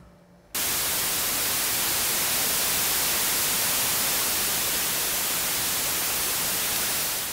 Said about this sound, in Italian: questo è il rumore bianco un rumore che sicuramente avete già sentito, è simile al rumore della pioggia